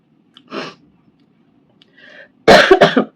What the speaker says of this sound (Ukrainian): От тільки-тільки почався кашель.